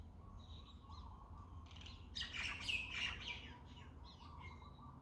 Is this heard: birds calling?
yes